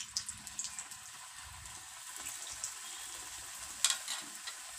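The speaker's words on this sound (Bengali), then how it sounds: "এইভাবে করে ভেজে নিচ্ছি" Potato kochuri fry in hot oil with a steady, faint crackling sizzle throughout, dotted with soft pops and one brighter spatter near the end.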